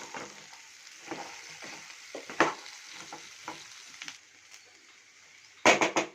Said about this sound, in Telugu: 1 నిమిషం పాటు మనం హై ఫ్లేమ్లో దీన్ని కలుపుకోవాలి.